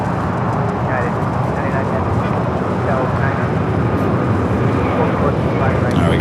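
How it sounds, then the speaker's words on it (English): An Airbus A321neo jet takes off at LAX, a loud, steady broadband engine roar that holds without letup throughout. "we got the flight heading to Chicago O'Hare, A321 Neo taking off"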